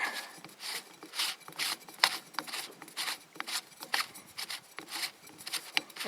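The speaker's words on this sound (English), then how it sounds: "I'll pull off the sunshade so you can get an idea what it's like without it." A sunshade is pulled and twisted off a Simmons Predator Quest 6-24x50 rifle scope, giving repeated close, quiet rubbing and scraping sounds in irregular short bursts.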